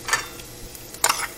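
Garlic and onion frying in a pan for a linguine clam sauce, with two short bursts of sizzle and stirring scrapes separated by a quieter pause, close and moderately loud, with no voices.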